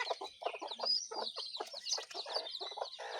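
Desi and sonali chicken chicks on a farm, around twenty of them, peep and cheep continuously in a busy overlapping chorus of short bright calls, close and fairly loud, with no talking.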